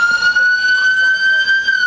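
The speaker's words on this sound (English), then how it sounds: "Turn off your sirens." A loud police car siren wails continuously at close range during a confrontation with robbery suspects, its steady high tone sliding slightly, with shouting voices faintly mixed in.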